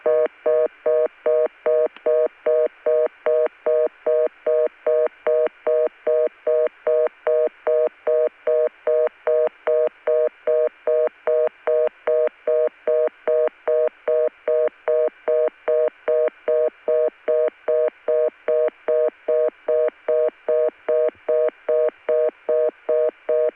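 Dialing tones sound on a 1980 ConTelNet CCSA telephone network as a long, evenly spaced series of identical electronic beeps that stay steady and clear, with no voices.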